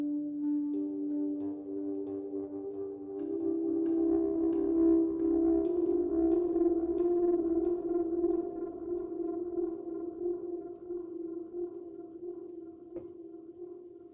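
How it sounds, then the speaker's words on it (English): A synthesized audio track rings out through a long reverb and analog delay, sustained tones swelling and smearing into lingering echoes over about fourteen seconds, with no speech. "Let's grab that reverb. It's a nice long reverb. Analog delay, why not?"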